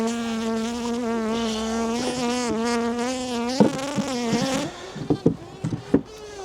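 A steady, close insect buzz drones for several seconds, then breaks into a few short scraping and tapping sounds.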